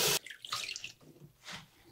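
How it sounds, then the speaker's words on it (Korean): Lettuce being washed under running water at a sink makes a short gush of flow followed by soft splashing and sloshing of leaves, close and fairly quiet. "상추를 깨끗하게 씻도록 하겠습니다"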